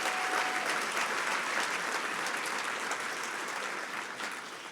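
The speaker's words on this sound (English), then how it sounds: "Please give Senator Crapo another round of applause for his great work." A large dinner audience applauds a senator in a steady, dense burst of clapping that stays loud throughout and only begins to thin slightly at the very end.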